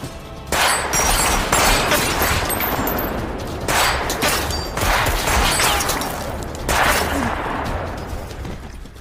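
Characters fire guns at tactical troops in a brutal battle, three loud, close clusters of rapid automatic gunfire with crashing impacts and brief lulls between the bursts.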